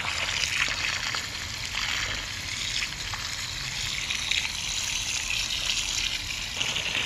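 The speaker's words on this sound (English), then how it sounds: "Fill this thing up with water." Water poured from a hose or bucket into a fence post hole over fresh concrete for a wooden privacy fence, a steady outdoor gush and trickle lasting several seconds, moderately faint and without talk.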